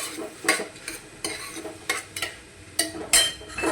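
Spices and vegetables stirred in a frying pan for a mixed vegetable curry, with salt, red chilli powder and coriander-cumin powder added; a spoon scrapes and clinks against the pan in quick separate strokes over a soft sizzle.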